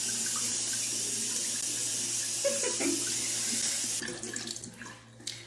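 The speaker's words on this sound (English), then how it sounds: "Run it under the water with my beauty bar." Tap water pours steadily over a cotton round and beauty bar held under the faucet, a continuous close hiss that breaks into uneven splashes and tapers off in the final second.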